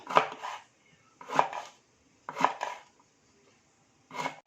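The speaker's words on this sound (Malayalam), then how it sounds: "കട്ടിംഗ് ബോർഡിൽ വെച്ച് നന്നായിട്ടൊന്ന് ചെറുതായിട്ട് അരിഞ്ഞെടുക്കാം" A knife chops breadfruit on a cutting board: four separate, close thuds, each a short crunchy knock, spaced about a second apart with quiet between.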